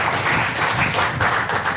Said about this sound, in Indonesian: Wah, tepuk tangan.